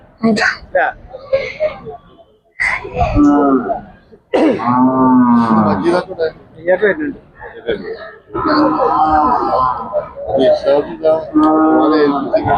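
Cattle mooing loudly several times at a livestock market, long low calls close by, alternating with people talking nearby.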